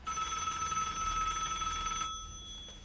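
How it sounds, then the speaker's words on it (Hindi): A telephone bell rings continuously at a police station at around midnight, a bright, steady electric trill that cuts off abruptly after about two seconds, leaving a faint fading tail. "फोन की घंटी बजी।"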